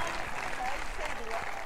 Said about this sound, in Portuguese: O público aplaude efusivamente os finalistas